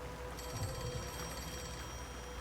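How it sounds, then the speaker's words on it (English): A phone rings in the video game Raincode+, a steady electronic tone that holds from early on, faint over a low background hum, with no talking. "The phone is ringing."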